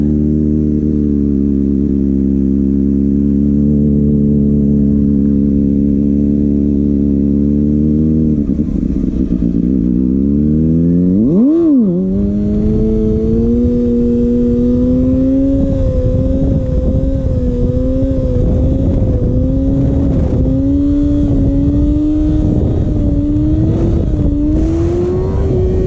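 Kawasaki ZX6R motorcycle engine held at steady high revs, dipping, then a sharp rev spike and a rising, wavering engine note through rolling burnouts, loud and close with clattering texture.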